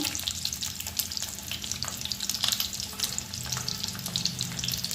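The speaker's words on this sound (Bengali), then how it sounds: "ডিমটা আমি এইভাবে লাল করে এপিট ওপিট করে ভেজে নিচ্ছি" Eggs frying in a pan, giving a continuous dense crackling sizzle that stays even throughout, close and moderately loud with no speech.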